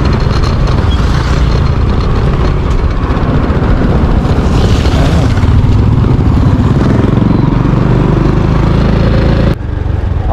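Motorcycle passing on a busy highway, a loud close engine drone mixed with road and wind noise, swelling in the middle and cutting off sharply near the end.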